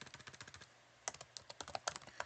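Rapid keystrokes on a computer keyboard enter a chart title in Excel, close and crisp, with a short pause before a second uneven burst of typing.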